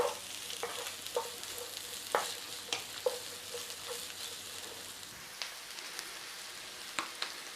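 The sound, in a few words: garlic and onions frying in oil in a pan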